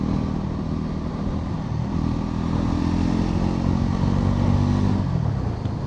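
A 2025 Bajaj Pulsar NS 400Z motorcycle on the move, its engine droning steadily at speed with a slight rise and shift in pitch, plus wind rush and road noise, loud and close throughout with no talk.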